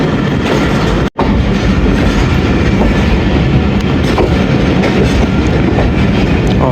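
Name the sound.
Mehr Express passenger train arriving at station platform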